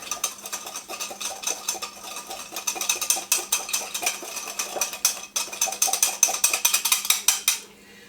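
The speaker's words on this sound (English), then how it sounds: "And I'm going to blend that." Rapid rhythmic clinking and scraping of a utensil whisking batter in a mug, steady and close, stopping abruptly at the end.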